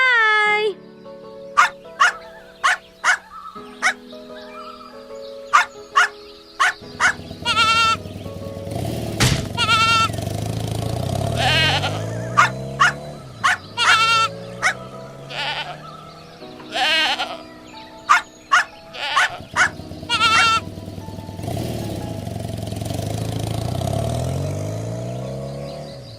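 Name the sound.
goat bleating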